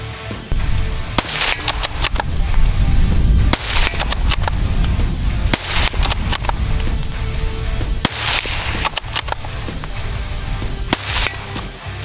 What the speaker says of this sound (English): Yeah, so I've got 5 out of 5 shots, about 70 metres.